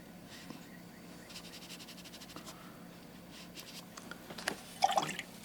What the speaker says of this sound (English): rinse it off in clean water, dry off the brush